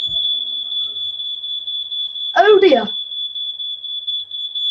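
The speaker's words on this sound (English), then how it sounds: "yes, that is our smoke alarm going off" A household smoke alarm sounds a continuous high-pitched electronic tone throughout, and a man briefly exclaims over it partway through.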